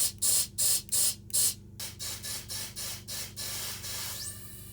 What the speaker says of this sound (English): you're more likely to get a blast of air that'll pop it up and over